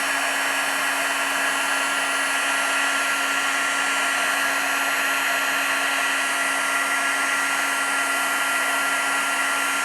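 A heat gun blows steadily while heat-setting black embossing powder on a watercolor card, a loud, unbroken whirring hum with a constant tonal whine and no pauses.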